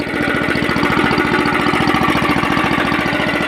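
A 9-horsepower water pump engine mounted on a farm vehicle runs loud and close, with a steady rapid chugging throb that holds constant throughout.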